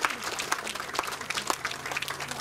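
An audience at a speech gathering applauds, producing a dense, continuous patter of many hands clapping at moderate loudness.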